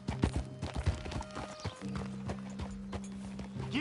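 A horse's hooves clip-clop in a quick, steady rhythm over a sustained tonal background, with a possible short whinny.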